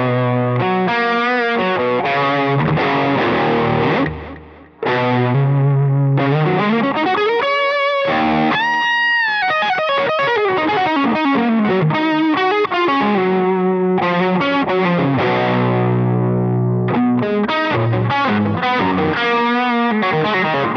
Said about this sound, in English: Let's throw on some of the precision delay that you guys may have seen in the Apollo